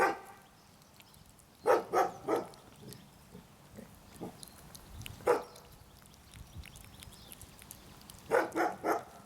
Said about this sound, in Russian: Ну вот у нас собачка есть, да.